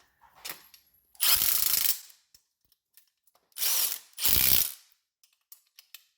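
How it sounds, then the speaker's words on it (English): A ratchet torques down Allen head bolts on a sportbike side-lift stand for a BMW S1000RR, giving three loud, close, buzzing bursts of rapid pawl clicks, each about half a second long, separated by small taps and quiet gaps. "Final torque down on the bolts."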